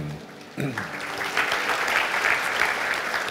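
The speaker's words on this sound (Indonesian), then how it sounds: "Tepuk tangannya boleh di-extend buat para worship leaders dan musicians" A church congregation applauding the worship leaders and musicians at a Sunday service, with dense, sustained clapping that swells after a brief murmur and keeps going to the end.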